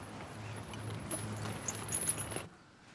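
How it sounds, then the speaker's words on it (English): Horses clip-clop in a rural English farming drama, the hoofbeats faint and steady against a soft outdoor hiss before fading out near the end. "Couple of sound horses, these, you know, aren't they?"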